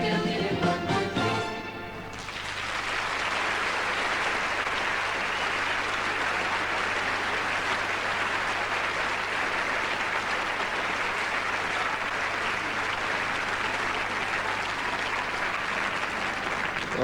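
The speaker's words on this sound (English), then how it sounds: "that's got the kind of applause we anticipated it would do" After Belgium's entry at the 1977 Eurovision Song Contest, the tail of the song gives way to a large audience's sustained applause, loud and even, filling the hall without letup.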